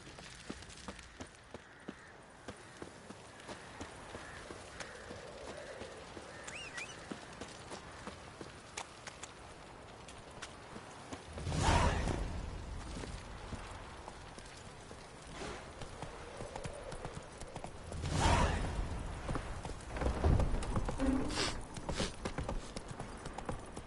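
Roach the horse gallops through the world of The Witcher 3, with a continuous patter of hooves that swells into louder bursts twice, all fairly close and with no talking.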